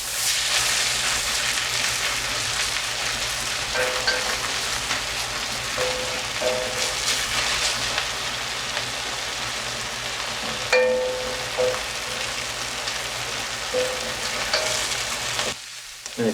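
Onions sizzling steadily in a pan while a utensil scrapes them off the sides and stirs, a continuous close crackling hiss with occasional clinks and scrapes, no talking.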